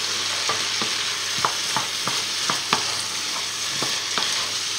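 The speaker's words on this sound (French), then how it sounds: "Remuer souvent, ça permet d'avoir une cuisson uniforme." Squid fries Basque style in a pan, a constant hiss of sizzling broken by a dozen sharp scraping taps as a utensil stirs it at an uneven pace, close and alone.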